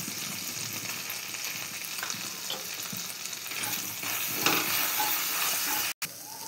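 Turmeric and chili powder fry in oil with a steady close sizzle, with faint stirring clinks and a brief dropout near the end.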